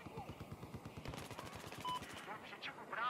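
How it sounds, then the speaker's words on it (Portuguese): Automatic gunfire in the video game Battlefield 4, rapid close bursts of shots with a louder burst near the end, while a player talks over it. "Tá atirando aqui, mano."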